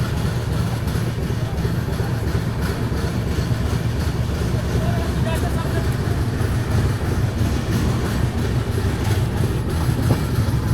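Amritsar Jaynagar Humsafar special train running, a steady low rumble and rattle of the moving carriage that continues throughout.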